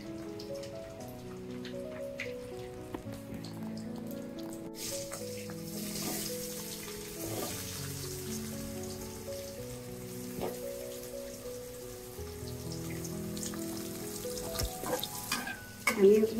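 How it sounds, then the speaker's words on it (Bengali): Potatoes seasoned with salt and turmeric frying in a pan, giving a steady soft sizzle with occasional stirring clinks and a faint tonal hum underneath, fairly quiet, with no talking. "আলুগুলো ভেজে নিব"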